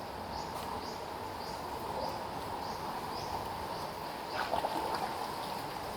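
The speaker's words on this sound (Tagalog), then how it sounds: "maagos ngayon yung tubig, malakas." Strong flowing water of a stream running through Malangaan Cave, a steady rushing wash that fills the space evenly, with a few faint brief knocks near the end.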